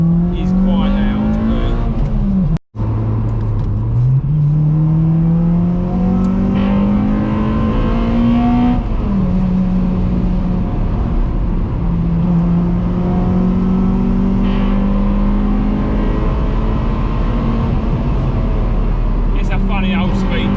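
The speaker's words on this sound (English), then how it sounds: "air filter and some random exhaust, which is pretty loud" Honda VTEC car with a loud aftermarket exhaust and aftermarket air filter, engine revving continuously and close, pitch rising and falling through the revs, with a brief cut near the start.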